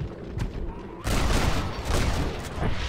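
Gunfire in Red Dead Redemption during a wagon defence against bandits, a dense, continuous volley of shots that swells abruptly loud after a moment and keeps rattling on.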